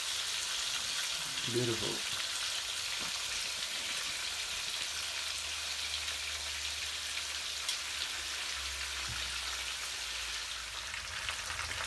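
Oxtail searing in a pot for an oxtail dinner, a steady broadband sizzle and crackle of browning meat running throughout, with a brief spoken word near the start.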